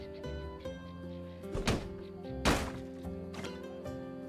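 Objects are kicked in My Time at Sandrock, giving two sharp thunks about a second apart over light game music, with a fainter knock afterwards.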